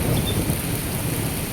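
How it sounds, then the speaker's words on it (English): Thunder rumbles low and steady under the hiss of a rainstorm in Mérida, Yucatán, a continuous dense wash of rain with deep rolling energy throughout, no voices. "I don't know if you can hear that thunder."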